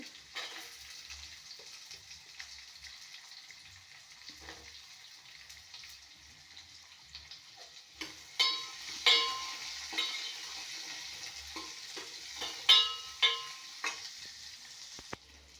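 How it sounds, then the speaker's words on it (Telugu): Onions fry in a pan with a soft, steady sizzle at low level, broken by a few louder stirring scrapes and clatters toward the end, with no talking. "ఇది కొంచెం వేగిన తర్వాత ఆనియన్, దీనికైతే ఆనియన్ బాగా వేసుకోవాలి."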